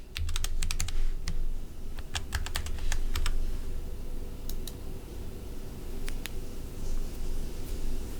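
Password keys tapped on a computer keyboard in quick, irregular bursts of sharp clicks with brief pauses, close and clear over a steady low hum, with no talking.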